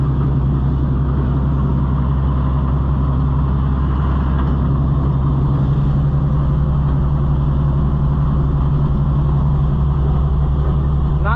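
A John Deere 55 EB combine engine runs continuously while the machine is driven, a loud, close, steady low rumble with a constant droning hum and no pauses.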